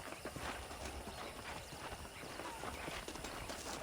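Horse hooves clip-clop steadily over an even hiss of outdoor ambience, a regular trotting rhythm at moderate distance, in the video game Red Dead Redemption.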